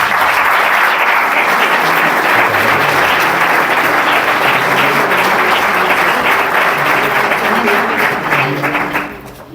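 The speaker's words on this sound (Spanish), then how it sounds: "Un fuerte aplauso para ellos." During a conference tribute in Medina del Campo, an audience gives strong, dense applause, loud and continuous for several seconds before fading out at the end, with no voices over it.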